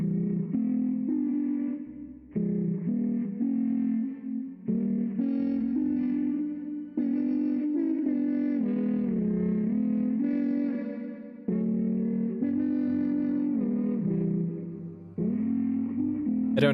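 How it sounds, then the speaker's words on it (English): Eerie, steady humming drone with shifting tones fills a library in a video game, continuous and fairly loud throughout with a processed, echoing quality. "I don't know if you can hear that humming, but it's very disconcerting."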